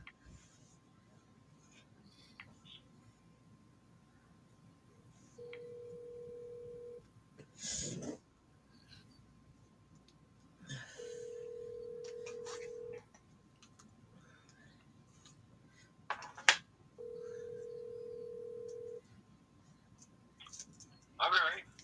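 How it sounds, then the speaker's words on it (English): A telephone call rings out on a quiet line: three evenly spaced long ringback tones, separated by bursts of clicks and handling noise, fairly faint. "So let me call Len."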